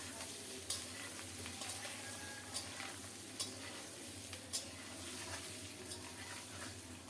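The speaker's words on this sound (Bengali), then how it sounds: "আবারও নেড়ে চেড়ে সুন্দর মতো ভেজে নিচ্ছি" Eggs dusted with turmeric fry in oil with a soft, steady sizzle, punctuated by occasional light scraping stirs of a spatula in the pan, fairly quiet and without talk.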